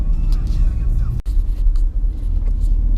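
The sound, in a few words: car driving through narrow city streets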